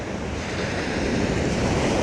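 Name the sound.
ocean waves on a beach before low tide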